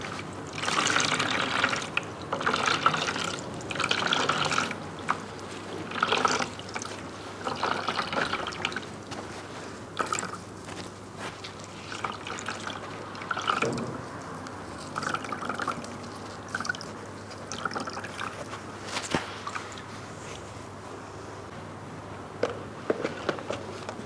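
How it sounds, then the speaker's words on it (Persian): Hands squeeze water out of papier-mâché paper pulp, giving close, wet squelches followed by dripping and trickling that come in repeated bursts and then taper into a softer dribble. "کاملا فشار میدیم تا هرچی آب توش هست جدا بشه"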